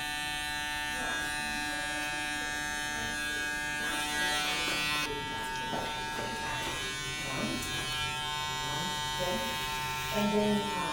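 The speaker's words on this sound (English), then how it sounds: "this is the clipper though" An Andis Recon electric hair clipper runs with a steady, close mechanical buzz for the whole stretch, with faint voices and handling noises mixed in.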